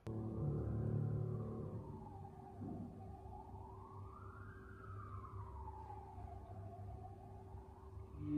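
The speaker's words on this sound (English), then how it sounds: "there were sirens outside, so you stopped for a while." A siren outside wails in slow rising and falling sweeps, fairly faint and distant, steady for several seconds over a low murmur of indoor background sound.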